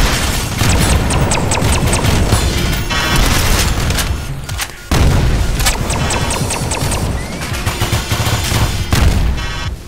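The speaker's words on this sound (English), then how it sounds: "Oh, that's a lot of missiles." A barrage of missile explosions from the Synthetik video game booms and crackles almost nonstop in dense, rapid volleys, with only a brief lull midway.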